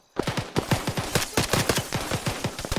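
Rapid bursts of automatic gunfire in a video game, a loud, close string of sharp shots fired in quick rhythmic succession with no pauses.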